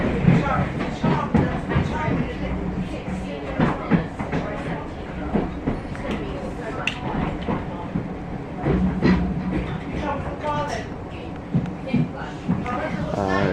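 A train rumbles and clatters along the rails into Weybridge station, England, with rhythmic clicks and squeals as it slows, while a person talks over the noise.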